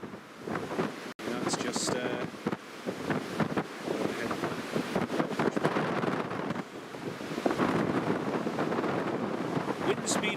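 Strong gusting wind from Storm Otto at Newcastle International Airport buffets the microphone in uneven rumbling bursts, with someone speaking briefly over the noise.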